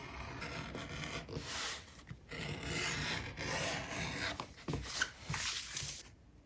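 A hand edge beveler scrapes along leather edges on a cell phone belt case, making repeated short rasping strokes, fairly quiet and close, with brief pauses between passes.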